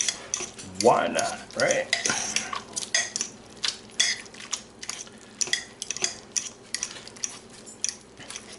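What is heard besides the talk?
shredding tender Mississippi chicken and pepperoncinis in a pot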